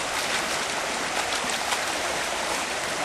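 Sluice mat shaken vigorously in a water bucket while gold panning in the Mother Lode, a loud, dense, continuous sloshing and churning of water, close by and without talk.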